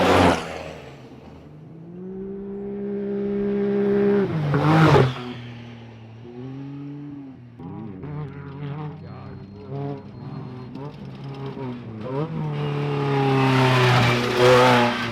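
Race cars roar past one after another on a Mexican road race course, engines rising and falling in pitch as each one nears and fades, loud and fairly close, with a final car building up at the end.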